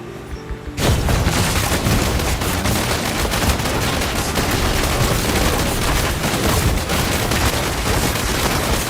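Diablo Immortal Demon Hunter strafe and multishot attacks in the video game, a dense, continuous barrage of loud rapid gunfire and impacts that starts abruptly and runs without a break to the end.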